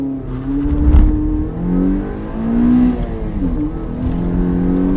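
A 2010 Mazda Miata PRHT accelerates hard, its engine note rising and falling through gear changes, loud and close with steady road and wind noise beneath.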